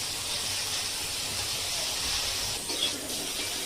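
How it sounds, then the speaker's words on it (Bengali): Salted, turmeric-coated brinjal pieces fry in hot oil, giving a steady broadband sizzle that holds evenly for a few seconds with a brief shift near the end. "এবার এই তেলের মধ্যেই আগে থেকে নুন হলুদ মাখিয়ে রাখা বেগুনগুলো আমি ভেজে নেব"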